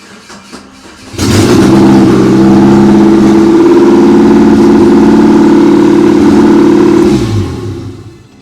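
A Geo Tracker engine cranks briefly, catches and settles into a steady, loud idle for several seconds, then drops away near the end.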